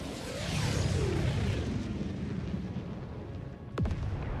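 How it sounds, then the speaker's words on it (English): A support weapon drop slams down in Helldivers 2, a deep rumbling impact with a long roaring tail and debris, followed by a sharp metallic thud near the end. "Calling down a support weapon."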